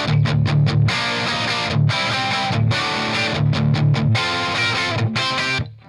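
Distorted electric guitar through a closed-back amp cabinet, playing a chugging rock riff with rhythmic stops and palm-muted bursts, loud and close, with no voices.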